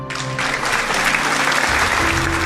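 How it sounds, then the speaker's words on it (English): An audience applauds in the Cinderella Phenomenon video game, a dense, loud burst of clapping that holds steady over a faint musical tone. "The audience around us claps and cheers, but Claude and I are silent."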